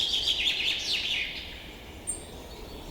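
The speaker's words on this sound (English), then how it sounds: "The distant call of a lone bird settles far off, blending with the muted wind's sigh." A single bird calls far off in a cold, quiet night setting, a few thin, high chirps fading out against faint background hush, with one brief sharp peep near the end.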